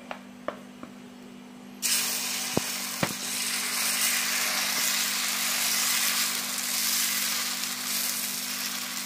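Chana dosa batter sizzles loudly on a hot griddle, a steady close frying hiss that bursts in suddenly after a few faint clicks, with no talking.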